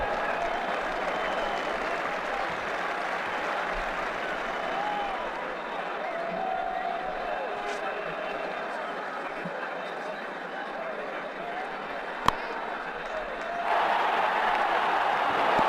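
A cricket stadium crowd in Ashes Cricket 2009 cheers and applauds after a shot in an IPL match between Mumbai Indians and Rajasthan Royals, a sustained loud wash of clapping and roaring that swells slightly toward the end.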